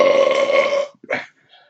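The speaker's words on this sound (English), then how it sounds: "was the best burp" A single loud, close burp after drinking a Sol chelada, a long resonant belch lasting nearly a second, followed by a short gulping catch of breath and a faint trailing sound.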